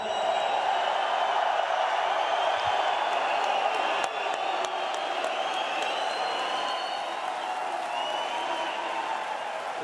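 Large arena crowd at a ONE Championship fight night in the United States, cheering and applauding for Muay Thai fighter Rodtang, a steady dense roar of applause and whoops sustained throughout, with no break.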